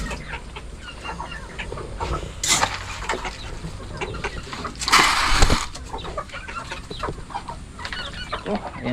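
Chickens pecking at scattered corn on a rainy farm, soft clucking and scratchy pecking up close, with a couple of louder bursts of noise mid-clip and low background activity throughout.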